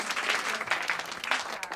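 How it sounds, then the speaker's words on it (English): Brief round of applause from a small live audience after a song performance, steady clapping throughout at moderate volume. "Let's give her a nice round of applause."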